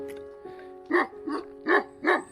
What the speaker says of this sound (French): Le Kangal est un chien de berger turc, un grand chien.